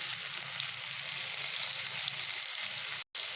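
Finely chopped onions frying in oil with bay leaves and five-spice seeds, a continuous bright hiss of sizzling, steady and close, with a brief dropout near the end.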